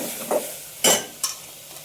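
Coriander seeds, chillies and tomatoes fry in oil for chilli pulusu, with soft stirring scrapes and two brief sharper clinks of a spoon against the pan over a low sizzle, close and fairly quiet.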